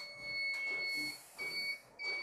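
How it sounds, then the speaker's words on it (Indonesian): A UPS overload buzzer sounds above 1500 watts, giving a thin high electronic tone in repeated pulses of about a second, alongside bursts of broadband hiss, with no voice over it. "jadi saat menyentuh di atas 1500 watt maka buzzer akan aktif"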